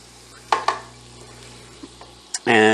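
Boxty potato pancakes fry in oil and butter in a pan, a soft steady sizzle broken by a few utensil scrapes and clinks, ending in a louder burst of sizzling.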